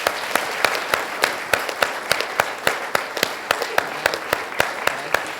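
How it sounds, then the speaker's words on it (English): Audience applause for a panel of fellows fills the room, a steady wash of clapping with sharp individual claps standing out, sustained and fairly close throughout. "Big round of applause for the fellows,"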